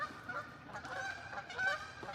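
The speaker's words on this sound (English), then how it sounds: "These are some gangster geese." Geese honk on the water, a few loud, harsh calls rising over a steady outdoor background hiss, with the strongest honks coming near the middle and toward the end.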